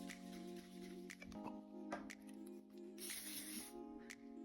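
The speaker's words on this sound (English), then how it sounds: "Just going to spray it really good on there." Beeswax cleaner sprayed onto stained glass artwork, several short hissing bursts, close and fairly quiet over a steady low hum.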